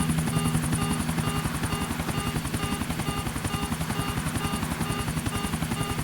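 Steady helicopter rotor thumping in Grand Theft Auto IV, with a constant high whine and a faint repeating warning beep despite no damage, loud and continuous throughout, no voices.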